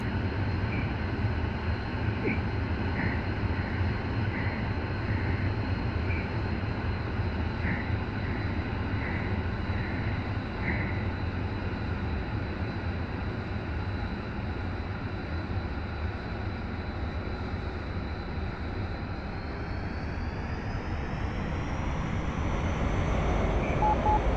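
An F-35B jet in the DCS flight simulator hums with a steady engine drone, its whine shifting in pitch toward the end as power is eased back, continuous and fairly loud.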